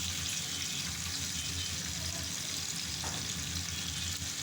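Eggs sprinkled with turmeric fry in hot oil in a pan, making a continuous, even crackling sizzle with one faint tap partway through and no voices.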